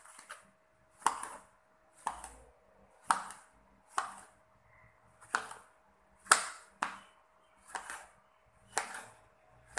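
A knife chops ridge gourd into medium pieces on a board, about ten crisp, evenly spaced chops with short pauses between, close and fairly quiet; no talking.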